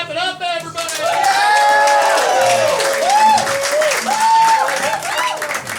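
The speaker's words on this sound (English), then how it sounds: "Clap it up, everybody." Audience at a comedy roast battle breaks into loud, sustained applause and clapping with some cheering, a steady wash of crowd noise under which a host's voice rises and falls.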